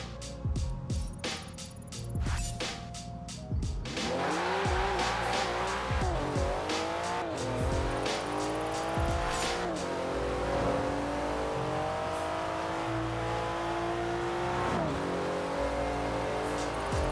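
A 2019 Porsche 911 Carrera driven hard in Forza Horizon 4, its engine revving up and down through gear shifts with squealing tires, loud and continuous with rising and falling pitch sweeps.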